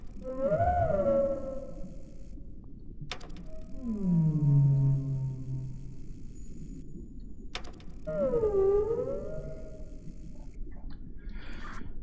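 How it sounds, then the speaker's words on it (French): Whale-like sobbing cries from the game We Were Here Forever: three long, mournful wavering calls that swoop and bend in pitch, each lasting over a second, with faint clicks between them and no talk. "ça faisait un espèce de sanglon de baleine là"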